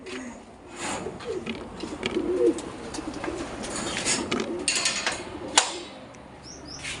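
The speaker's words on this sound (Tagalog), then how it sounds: "Gagalit na yung mga birds." Pigeons coo softly inside their coop, with low, repeated throaty calls and some rustling and clattering of the enclosure nearby at moderate volume.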